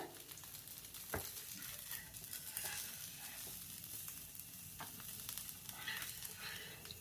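Pumpkin dosa frying on a hot pan after sesame oil is poured around it, giving a steady, fairly loud sizzle with faint crackles throughout.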